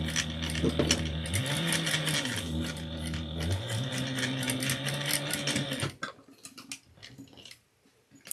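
A sewing machine stitches fabric in a loud, close, steady mechanical whir with rapid ticking and shifting motor pitch, then stops abruptly near the end, leaving faint handling noises.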